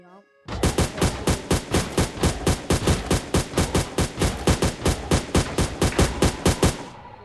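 An AUG rifle in a Minecraft guns mod fires a rapid, evenly spaced burst of about thirty loud, punchy shots lasting several seconds, then stops abruptly.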